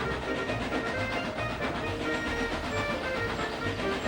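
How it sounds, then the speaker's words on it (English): Steam train engine chugging along the tracks, a continuous moderate rumble with a steady rhythmic clatter throughout and no talk. "Percy was in front puffing and chuffing"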